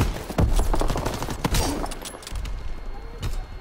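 Rapid gunfire in the multiplayer game Call of Duty WW2, a dense volley of loud shots in the first half thinning to scattered cracks.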